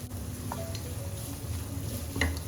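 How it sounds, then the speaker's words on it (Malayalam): Onion and vegetables sautéing in coconut oil in a pan for tiffin sambar, a soft steady sizzle with faint stirring clicks and a small scrape near the end. "പച്ചക്കറി ഇട്ട് അത് വഴറ്റിയെടുക്കുകയാണ്"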